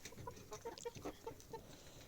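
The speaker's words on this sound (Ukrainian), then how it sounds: "Ось така в мене є сіренька курочка." A grey hen gives a short series of soft, quiet clucks in quick succession, with no talking.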